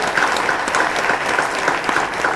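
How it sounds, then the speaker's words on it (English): Dense, steady audience applause fills a panel discussion on presidential candidates, loud and continuous throughout with no break. "Give them a nice round of applause."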